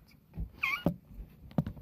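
Two house cats clash indoors: a short meow, then sharp bursts of hissing and scuffling a moment apart, fairly close and loud, with no talking.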